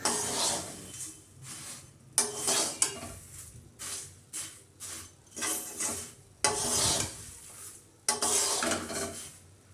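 Flattened rice (chira) frying with lightly fried garlic in a pan, stirred in repeated bursts of scraping and rattling utensil strokes over a soft sizzle, close and fairly loud.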